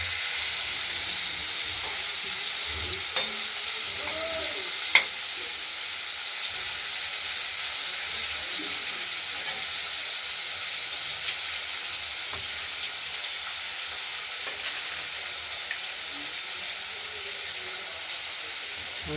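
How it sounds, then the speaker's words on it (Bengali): Cut potatoes and vegetable stems fry with whole-spice tempering in a pan, giving a steady, even sizzle and hiss broken by occasional faint clicks and scrapes of stirring. "ফোড়নের সঙ্গে নাড়াচাড়া করে ভাজা করে নেব।"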